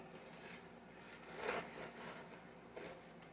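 A serrated knife saws through soft French bread, making a quiet, close rasping with several back-and-forth strokes and a slightly louder pass midway.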